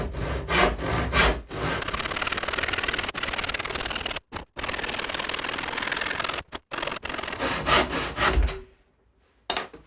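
Steady back-and-forth sawing through cherry wood, close and loud, running almost continuously with a few brief pauses before stopping near the end.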